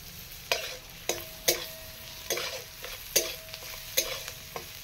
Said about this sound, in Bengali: ইলিশ মাছের যে তেলটা ছিল, ওই তেলটাতেই আমি পেঁয়াজটা ভাজছি